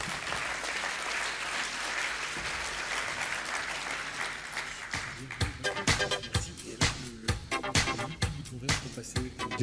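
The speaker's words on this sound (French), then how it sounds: "Je vous demande de l'applaudir." Conference audience applauding a speaker at an itSMF France event, a steady wash of clapping that thins toward the end into sparser, distinct individual claps.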